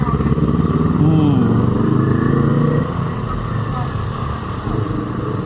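A big bike motorcycle on a short ride near Marikina roars close and loud as its engine is revved, the throttle swelling and then easing to a steady rumble.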